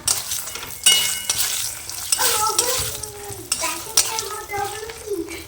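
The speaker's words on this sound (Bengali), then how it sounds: "এদিকে আমি এই যে একটুখানি লাউ রান্না করছি, তো তার মধ্যে একটু ডালের বড়ি দিয়ে দিলাম" Bottle gourd cooking with lentil dumplings in a pan: an ongoing sizzle with scrapes of stirring and occasional clinks of a utensil against the pan, close by, while a voice talks over the cooking.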